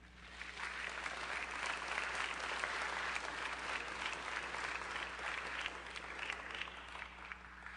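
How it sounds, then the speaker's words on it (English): Audience at an apologetics conference breaking into steady applause to welcome a speaker, a dense wash of many hands clapping in a hall, even and sustained throughout, moderately distant. "I just want you to give a warm round of applause to Dr. David Calhoun."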